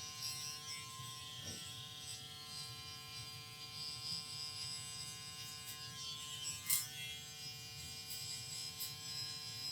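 An electric hair clipper fitted with a fusion blade buzzes steadily while cutting a fade, a faint, close, continuous hum with small brief surges as it moves through hair.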